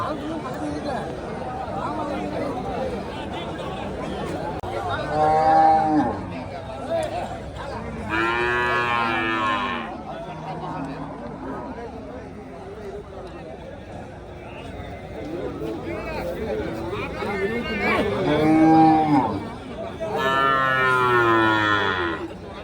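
Cattle moo repeatedly at the Kallakurichi cow market in Tamil Nadu, several long, loud lowing calls rising over a steady crowd babble and people talking nearby.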